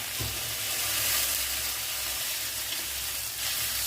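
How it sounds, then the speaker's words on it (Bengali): Boiled eggs go into a hog plum curry simmering in a pan, with a constant soft sizzle and bubbling and a couple of dull knocks near the start. "এই যে এবার ডিমগুলো দিচ্ছি।"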